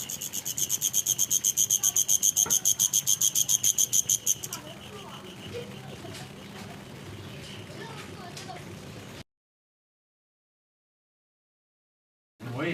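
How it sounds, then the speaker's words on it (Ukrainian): A cicada chirps in rapid, regular pulses for about four seconds, then fades into quiet outdoor ambience before the sound cuts to silence. "Цикада"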